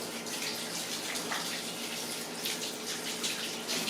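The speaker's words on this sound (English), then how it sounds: "Let me wash my hands real quick" Steady running water from a kitchen faucet while hands are washed beneath it, a continuous close splashing hiss with slight variations as the hands move through the stream.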